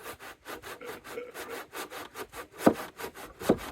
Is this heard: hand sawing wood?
yes